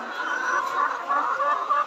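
Laying hens on a poultry farm clucking, a dense, continuous chorus of nearby birds with overlapping calls and no clear pauses.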